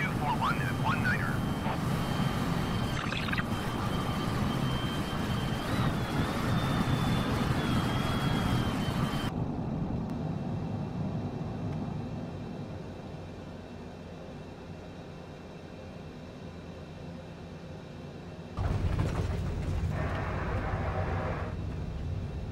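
An F-16 fighter jet lands on a runway, a loud, sustained broadband jet roar with a faint whine that fades to a lower rumble partway through, then surges loud again near the end.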